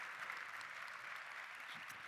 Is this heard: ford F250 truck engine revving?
no